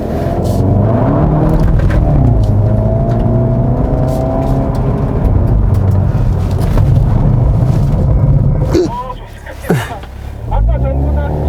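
A Hyundai Veloster N-DCT accelerates hard through a rubber cone avoidance course, its engine note rising steadily and loud throughout before briefly dropping off near the end, with a voice talking over it.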